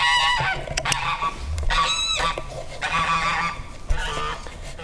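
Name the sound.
chickens clucking outdoors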